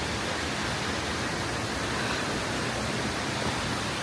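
Waterfall at Wulai, Taiwan, a steady broadband rush of falling water filling the scene evenly without pause, loud and continuous with no voices over it.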